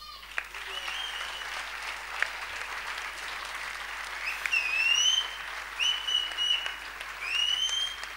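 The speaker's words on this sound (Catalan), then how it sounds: "Acomiadem també amb un fort aplaudiment als hereus 2022." Applause from an audience at a town festival proclamation in Riba-roja d'Ebre, a steady wash of clapping running throughout with bird calls chirping over it.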